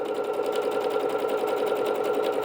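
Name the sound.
Bernette B-77 sewing machine stitching a decorative stitch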